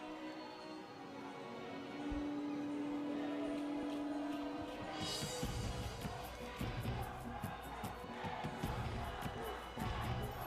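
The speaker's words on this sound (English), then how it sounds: "The cheer is there for the Solomon Islands" A stadium crowd in a grandstand cheers for the Solomon Islands men's football side late in the second half against New Caledonia, a broad sustained roar that swells near the middle and carries on, with bursts of rhythmic shouting.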